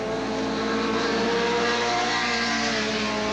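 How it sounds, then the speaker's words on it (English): Sedan touring race cars, including a red Oldsmobile and a Nissan, roar steadily through Lime Rock Park, forming a dense, continuous engine drone with no breaks and no voices. "the battle continues for 4th place between the 41 Red Oldsmobile of Paul Hacker out of Alateen, New York, and the number 24"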